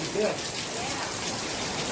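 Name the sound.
heavy rain during a thunderstorm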